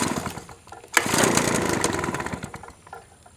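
Pull-starting a Husqvarna 130BT two-stroke backpack blower: a sharp cord yank, then the small engine sputters and roars briefly before fading back down, loud and close.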